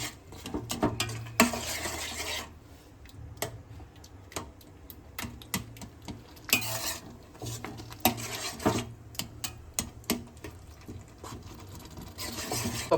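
Pav bhaji being stirred in a pan at home, a steady run of close scraping and clinking spatula strokes against metal in irregular bursts, with no speech.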